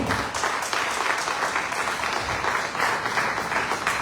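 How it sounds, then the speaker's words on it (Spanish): A church congregation applauds during a sermon, with steady, full clapping throughout and pulsing rises in intensity, heard alone without speech. "Dale un aplauso fuerte a mi rey."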